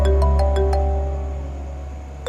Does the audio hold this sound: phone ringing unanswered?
yes